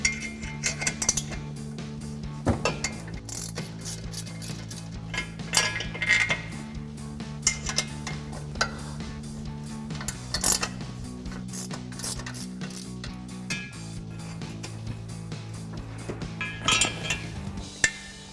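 Tools loosen the front crash bar bolts on a 2021-2024 Ford Bronco: scattered metallic clinks and ratchet clicks over a low steady hum, fairly quiet, with one sharp knock near the end.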